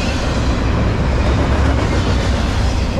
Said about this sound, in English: Short train today.